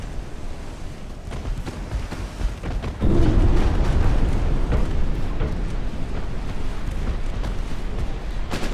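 Torpedo explosions rip into a cargo ship in the naval game Ultimate Admiral: Dreadnoughts, a heavy boom that swells into a sustained rumbling roar with scattered crackling impacts layered over it.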